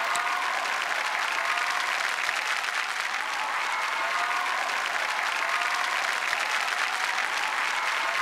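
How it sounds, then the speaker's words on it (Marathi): A studio audience at the Marathi comedy show Chala Hawa Yeu Dya claps in sustained, even, dense applause that holds steady throughout without letting up. "जोरदार टाळ्या झाल्या पाहिजेत"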